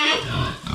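Farm pigs grunt close up in a short, rough run of low snorts and oinks, loud and alone with no talk.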